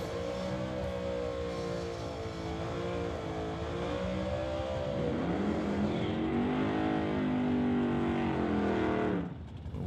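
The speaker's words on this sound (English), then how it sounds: "We'll wait for those burnouts to be complete." Doorslammer drag racing cars doing burnouts at Mission Raceway during an NHRA divisional event: loud, sustained engine roar with rising and falling revs across the whole stretch, close and continuous before cutting off near the end.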